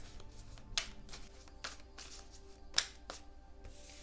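A deck of tarot cards riffled and shuffled by hand at close range, with a soft papery flutter and a few crisp snaps as the cards fall together, quiet in an otherwise still room.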